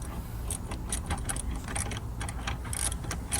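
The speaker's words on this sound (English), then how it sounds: "let's now remove the EGR using a number 10mm socket." Rapid metallic clicking of a 10mm socket wrench ratcheting as the EGR valve is unbolted from a 2011 Ford Escape 3.0 V6, steady close tapping over a low hum, with no talk.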